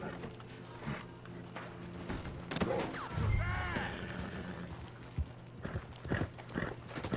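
Horse hooves clip-clopping on dusty ground in Red Dead Online, a loose series of fairly close hoofbeats with a brief whinny midway and someone talking over it.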